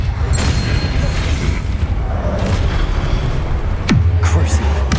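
Expelliarmus spell cast in the Hogwarts Legacy video game during a duel, heard as a sharp whooshing burst with a low boom, among other magical impacts and rumbling battle noise.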